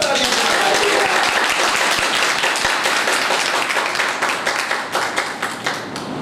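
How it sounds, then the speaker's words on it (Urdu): A church congregation at a Pentecost service claps loudly and densely, with voices mixed into the applause, which thins and fades somewhat toward the end. "اور زندہ خدا کے لیے زوردار تالیاں."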